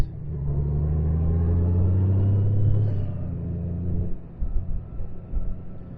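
A 2021 Honda Goldwing DCT motorcycle's steady low engine rumble drones close by, easing off partway through into a rougher, uneven hum as engine braking slows it descending the Col de Joux Plane.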